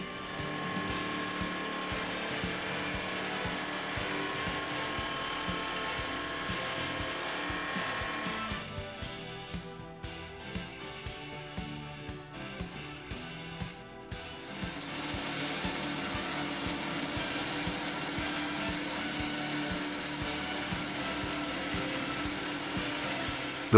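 A PTC 15HFVS vibrodriver on a crawler crane, driven by a 246 kW PTC 350 hydraulic power pack, hums with a steady dense whine, breaks into rapid pulsing bursts partway through, then settles back into a continuous drone.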